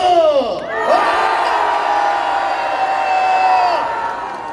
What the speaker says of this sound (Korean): 이제 마지막으로 3초간의 여러분의 기운을 모아주시면서 함성 3초 질러